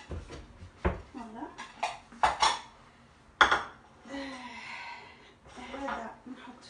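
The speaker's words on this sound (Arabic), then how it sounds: "نزيد نجيب صحن واحد اخر وصحن اخر" Plates fetched and set down in a home kitchen while making bourek annabi, a few scattered ceramic clinks and knocks with cutlery rattles, close by, mixed with soft breathing and movement.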